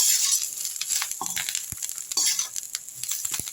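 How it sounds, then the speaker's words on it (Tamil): Ingredients for a manathakkali keerai idli podi sizzle and crackle as they roast in ghee in a pan over low heat, with a spoon stirring and scraping in short bursts, close and fairly soft. "இது எல்லாம் சேர்ந்து நெய்யில் நல்லா வறுப்படட்டும், பொரியும்"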